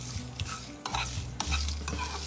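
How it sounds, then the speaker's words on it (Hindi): Whole nutmeg and dried red chillies dry-roast in a pan, rattling and scraping as they are stirred, with light crackling in close, fairly quiet bursts. "अब इसको भूनेंगे थोड़ा सा चूल्हे पे"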